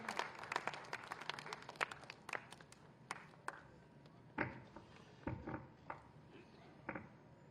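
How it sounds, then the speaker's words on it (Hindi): An audience claps at a forest department ceremony for World Environment Day in Gorakhpur. Scattered, uneven claps come first, then a few louder bursts follow with gaps between them, as though from a modest crowd a short distance off. "जोरदार तालियों के साथ"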